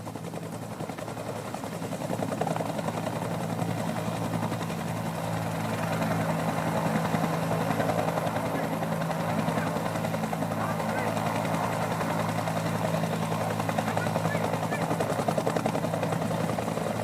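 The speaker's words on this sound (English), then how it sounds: "This helicopter can deploy up to 13 fully equipped troops into operational area with unparalleled precision and efficiency" A military helicopter flies during a troop insertion display at a Nigerian Army Day celebration, its steady rotor thrum and engine whine holding loud and continuous while a commentator speaks over it.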